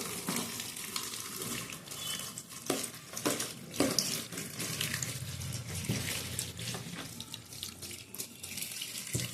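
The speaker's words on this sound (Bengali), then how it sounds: "একটা ঝুড়িতে দিয়ে দিলাম জল ঝরিয়ে দিয়ে নেবো" Water runs and drips from freshly washed fenugreek leaves set in a basket over a sink, a steady close splashing trickle with a few handling rustles and no talk.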